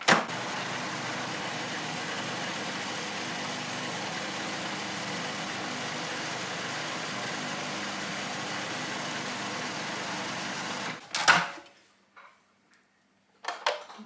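A countertop blender whirs steadily through fermented hot sauce with brine and apple cider vinegar, a loud, even motor drone lasting about eleven seconds and then cutting off, followed by a few clunks and quiet.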